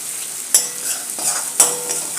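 Chopped capsicum and onions sizzle and hiss in a hot pan, with a few sharp scraping stirs of a spatula cutting through the steady frying noise.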